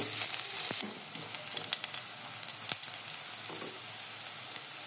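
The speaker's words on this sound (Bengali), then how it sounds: "পেঁয়াজ কুচি, কাঁচা ঝাল হালকা করে নেড়ে নিব।" Chopped onion and green chili frying in a pan while being stirred, a steady close sizzle that starts louder and then settles, broken by scattered spoon scrapes and taps.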